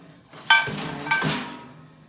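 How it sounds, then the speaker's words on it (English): Chilled Super Blend bearing dropped into place, two bright metallic clinks about half a second apart, each ringing briefly and close. "next we'll get ready to drop in the new bearing, which is of course one of the new Super Blends"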